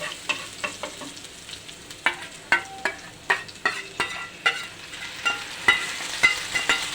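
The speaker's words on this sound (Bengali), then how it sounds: "মশলাটা আমি ভালো করে কষিয়ে নিই" Spice paste with chili powder frying in a pan, a soft sizzle under repeated sharp scrapes and taps of a spatula against the pan at a steady rhythm, fairly close.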